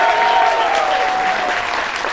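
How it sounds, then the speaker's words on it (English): An audience at a Liars Club game show aboard the Royal Caribbean cruise ship Grandeur of the Seas breaks into steady, dense applause that carries evenly to the end. "ladies and gentlemen, by round of applause, who do you think is telling the truth?"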